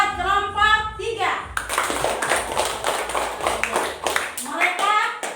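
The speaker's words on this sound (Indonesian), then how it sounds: "mari kita beri aplaus buat kelompok 3" Classroom applause for a student group, a burst of clapping from children and a teacher mixed with lively voices and chatter throughout, close and fairly loud.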